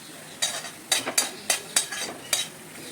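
Suhana masala stirred into hot oil for veg kolhapuri: six quick scraping strokes of a spoon over a faint background sizzle, evenly spaced, close and crisp.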